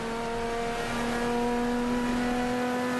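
A car on a racetrack revs high and steady under hard acceleration through the gears, a sustained strained engine whine with strong harmonics, moderately loud and continuous.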